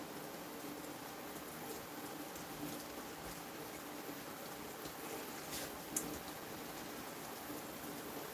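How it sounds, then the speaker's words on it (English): Steady rain falls outside during a summer thunderstorm, an even wash of patter and hiss with no let-up, faint and without talk. "here's some rain noises for you guys."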